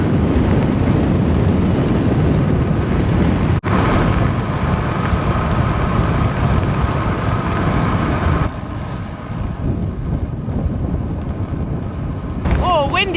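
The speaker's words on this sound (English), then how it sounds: "Oh, the wind's not letting up today." Heavy, constant headwind roars and buffets the microphone during a bicycle ride in Spain, loud and broadband, with a brief drop in intensity near the end.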